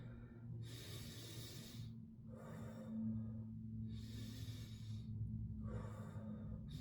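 Slow, deep breathing held in a yoga half lift with a flat back, several long audible inhales and exhales in a steady cycle, close and alone with no talking.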